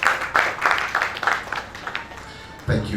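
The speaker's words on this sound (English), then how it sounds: "Please a round of applause for him." An audience applauds at an investiture ceremony for the chairman of the ICSAN Lagos State Chapter. The clapping comes in rhythmic, pulsing waves and grows louder near the end, with voices mixed in.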